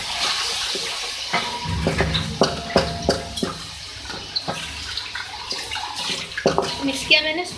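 Chicken hot and sour noodles being stirred in a pan, with soft scraping and clinking of a utensil against the pan under a steady sizzle, while someone talks over it.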